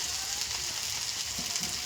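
Tomato frying in a pan with small fish (chuna mach) for a spicy chorchori gives off a close, steady crackling sizzle that runs unbroken throughout, with no talking.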